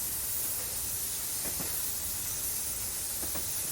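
A 1930s steam tank engine in the Train Simulator game hisses steadily, a constant airy wash of steam with two brief low thumps standing out part way through.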